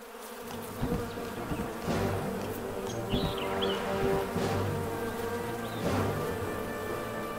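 Bees buzzing steadily in the backyard level of the video game Toy Shire, a continuous insect drone with a few brief swelling passes and faint chirps in the background.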